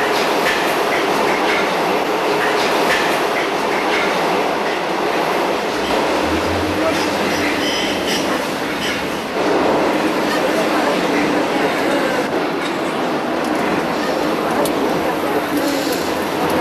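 A Paris metro train at the platform, with a steady loud rumble of rolling carriages, wheel clatter and faint squeals throughout, underneath murmuring voices.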